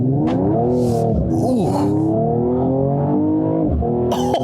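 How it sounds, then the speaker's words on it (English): A 2020 Mercedes-AMG E53 with an inline-six engine revs and accelerates loudly up close, rising and falling through several gear shifts with a throaty, smooth tone. "you gotta love the sound of a straight 6"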